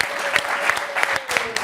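An audience claps for two comedian-improvisers brought on stage during a French football television show, a short burst of steady, dense applause at fairly close range.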